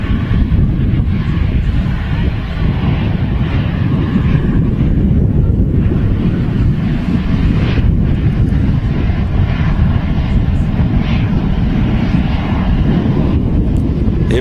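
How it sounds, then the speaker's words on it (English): Virgin Atlantic Airbus A330 lining up on runway 23 right at Manchester Airport for departure to New York, a loud sustained low jet rumble with some wind buffeting, steady throughout. "the long-awaited departure of the Virgin Atlantic 330 as she lines up on 23 right off to New York"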